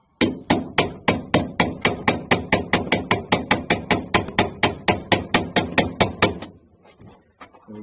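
A hammer taps a sleeved bolt into a hole in an aircraft longeron: about two dozen sharp, evenly spaced metallic taps in quick, steady rhythm, close and crisp, then the tapping stops and near-silence follows.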